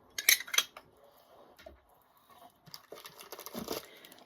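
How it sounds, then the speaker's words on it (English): Two tiny toy pie pans from an American Girl Maryellen's Seaside Bakery set are handled, giving light metallic clinks and taps followed by soft crinkling and rustling of packaging, close and quiet. "We've got 2 tiny little pie pans."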